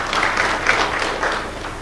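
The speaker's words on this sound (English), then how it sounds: "Let's have a round of applause for Dr. Riech." Audience at a high-level panel discussion on higher education applauding, a steady, close burst of clapping that swells and fades over a couple of seconds.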